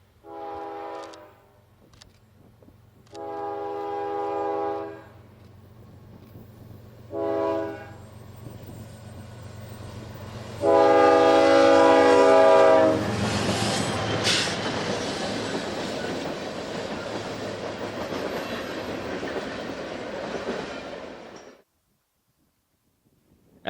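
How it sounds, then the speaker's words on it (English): A southbound Canadian National grain train rolls by in the Mississippi Delta with loud horn blasts, then a long rumbling, clattering pass of cars that fades out abruptly at the end. "As this grain train keeps moving it south, another southbound is right on its tail."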